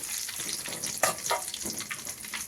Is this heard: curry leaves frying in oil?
yes